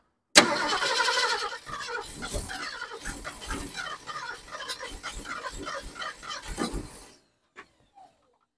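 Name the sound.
1972 Ford Ranchero engine cranking after carburetor tweaks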